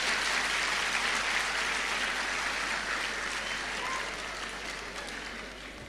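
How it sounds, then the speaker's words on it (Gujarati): An audience gives a thunderous round of applause to welcome motivational speaker Sanjay Raval onto the stage. The dense clapping stays loud and steady, then fades slightly toward the end. "જોરદાર તાળીઓના ગડગડાટથી સાહેબને સ્ટેજ પર આવકારીએ"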